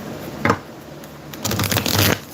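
A tarot-style oracle deck called the Archetype Guidebook being shuffled by hand, two bursts of riffling card noise, a short one early and a longer dense flurry later, close and fairly loud with no talking.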